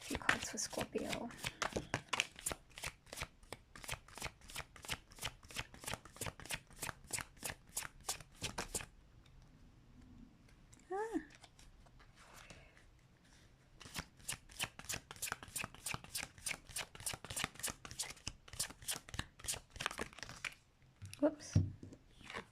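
Tarot cards riffle-shuffled in long rapid bursts of crisp flapping, pausing briefly in the middle for a soft murmur before the fast shuffling resumes, close and fairly loud.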